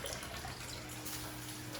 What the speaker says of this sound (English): I'm getting my hands wet